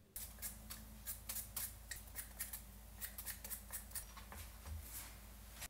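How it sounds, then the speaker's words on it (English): Potatoes are peeled for a Japanese chicken curry, with a steady run of short, scraping peeler strokes in a quick, uneven rhythm close by, and no talk. "now I'm going to peel the potatoes and go rinse them real quick."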